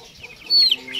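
Chickens in a backyard flock of cross-bred native birds cluck softly, with one brief louder burst midway, close by and alone without talk.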